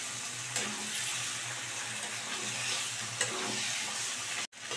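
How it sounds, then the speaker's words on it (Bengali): Fried chicken stirred into sizzling masala in a pan, a constant close sizzle with a couple of sharp scraping strokes and a brief clatter near the end. "ভাজা চিকেনটাকে অ্যাড করে দিয়ে এবার কিন্তু আমি মিশিয়ে দিচ্ছি।"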